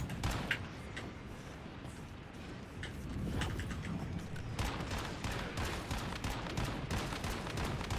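Gunfire in the Once Human video game as a player shoots a deviant: repeated shots in quick bursts, fairly faint and steady throughout, mixed with mechanical clicks.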